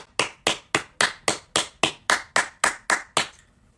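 Crowd applause for Aristide bursts out in about a dozen sharp, evenly spaced claps, each loud and crisp with a quick decay, ending in a short fading tail.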